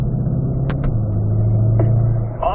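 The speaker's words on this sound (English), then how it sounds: "we're going to shift early to 5th gear" A C8 Corvette on a track rumbles steadily from inside the cabin, its engine note dropping as it shifts early into fifth gear, loud and close with brief clicks.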